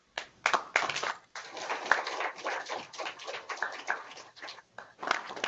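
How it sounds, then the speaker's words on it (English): Scattered applause for Pro Football Hall of Famer Thurman Thomas at a public event, sparse and uneven claps in bursts with short gaps, moderately close, without speech. "give a warm round of applause to Pro Football Hall of Famer Mr. Thurman Thomas."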